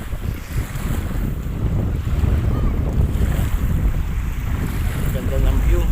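Strong, cold wind buffets the microphone over the rolling wash of waves at Manila Bay, a loud continuous outdoor roar by the sea.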